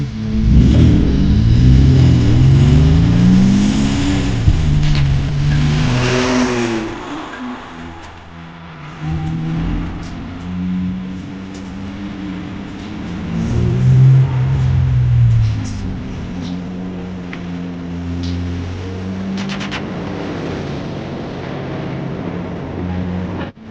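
Peugeot 406 V6 taxi engine pulling away, revving up through several gears with rising and falling sweeps, heard close from inside the car and easing to a steadier drone.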